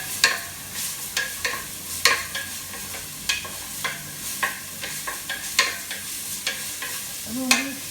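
Sliced onions frying in a pan for chicken curry, a steady close sizzle broken by sharp scraping stirs and utensil clicks at irregular intervals, with no one talking.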